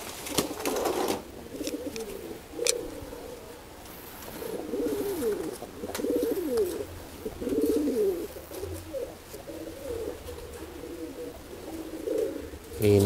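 Homing pigeons coo repeatedly at close range, soft throaty rolling calls with a few wing flutters, continuing without talk.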